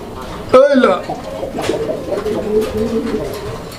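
A fancy pigeon coos close by in a loft, starting with a sharp rising burst and settling into a low, rolling coo that continues under faint background noise.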